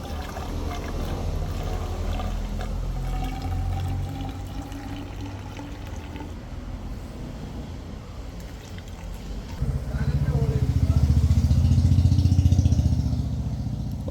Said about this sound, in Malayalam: ഞാൻ അതിന് 100 ml പെട്രോൾ ഒഴിക്കാൻ പോവാണ്